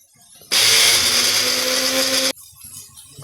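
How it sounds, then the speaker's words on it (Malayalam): A mixer grinder whirs loudly for about two seconds as it grinds coconut for aloe vera curry, starting and stopping abruptly amid quiet kitchen background. "വെച്ച തേങ്ങ ഒന്ന് പൊടിച്ചെടുക്കാം"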